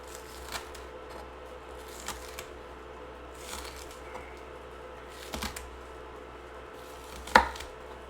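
A knife chops scallions on a board in light, irregular taps, one sharper knock near the end, over a faint steady background hum of boiling water.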